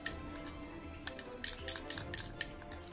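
Aloe vera hair mixture with oil and vitamin E being stirred in a bowl with a metal spoon, giving soft scraping and a few light clinks against the bowl, close by and fairly quiet with no talking.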